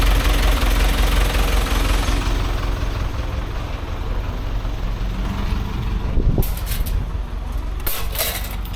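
A car engine with worn piston rings idles with a steady low rumble, close by, with a brief rising whine and some clatter toward the end.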